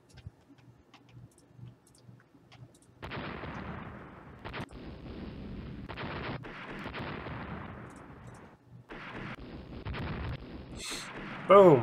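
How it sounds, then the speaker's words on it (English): Naval gunfire in the game Rule the Waves as Japanese ships shell a French vessel: after a quiet start, a sustained roar of cannon fire with repeated booms, loud and dense, ending in a sharp burst. "You're doing a very good job at shooting the crap out of this French boat"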